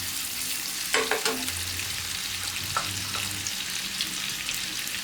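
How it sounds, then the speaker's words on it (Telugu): Mushrooms fry in oil and butter in a pan with a steady, close sizzle, interrupted by a few brief clinks and scrapes of stirring. "దీంట్లో ఆయిల్, బటర్ అలానే ఉంది కదా ఇంకా చాలా, ఇదే దీంట్లో మష్రూమ్ వేస్తున్నాను"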